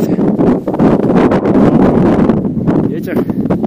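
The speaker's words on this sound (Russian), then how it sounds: "Ветер." Strong wind buffeting a microphone high in the Tian Shan mountains, a steady loud roar with gusts, and a person speaks briefly over it.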